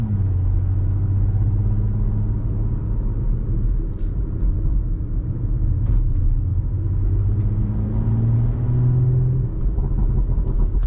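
2018 Audi SQ5 driving on a road, heard from the cabin as a steady loud low engine and road rumble with slight rises in engine pitch as it accelerates, no talking.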